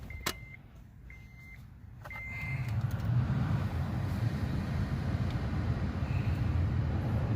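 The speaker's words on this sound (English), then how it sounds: "Turn the car on." The engine of a 2004-2008 Acura TL starts up after a few chime beeps and then idles with a steady low rumble, heard close and continuing to the end.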